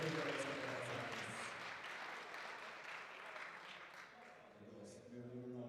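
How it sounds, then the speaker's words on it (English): Audience applauding a powerlifter at a junior European classic powerlifting championship, steady clapping from a crowd throughout, moderately distant and fairly even. "A round of applause for Valiseos Karakatsanis."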